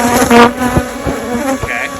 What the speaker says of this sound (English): So this is why we don't keep hot bees in the backyard.